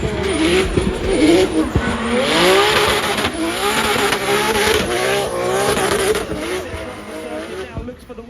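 Drift car in the DriftMasters video game, its engine revving and wavering through a drift with tire squeal, loud and continuous beneath steady commentary talk.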